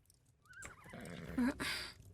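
A horse in the video game Ark whinnies, a rising and falling call of about a second, close and clear, followed by a few quieter snorts and movement noises.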